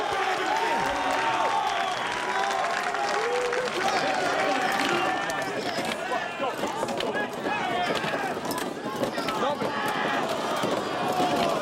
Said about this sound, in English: the crowd yelling and screaming for you